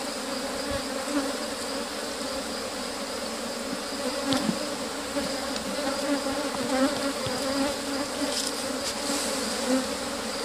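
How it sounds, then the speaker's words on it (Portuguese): Honeybees swarm and buzz around an opened hive frame from a strong colony, a loud continuous close drone with occasional light knocks from handling. "Olha aí, quanta abelha, seus meninos."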